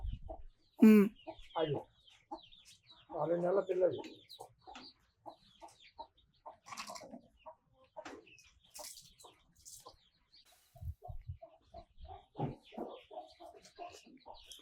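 Free-range country chickens of several breeds on a farm give scattered clucks and short calls, close and intermittent, with quiet gaps and a few bursts of activity between them.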